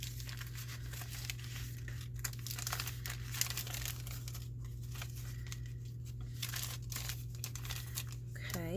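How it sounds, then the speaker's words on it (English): Old Christmas card paper pages are folded in half, giving a run of close crinkling and rustling over a steady low background hum. "I think I want to fold this completely in half since it's going to be in the middle."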